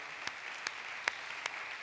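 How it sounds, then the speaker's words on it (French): Church congregation applauding for Jesus during a service, a steady wash of many hands clapping with a few sharper, closer claps standing out at irregular moments. "Est-ce qu'on peut donner des acclamations à Jésus?"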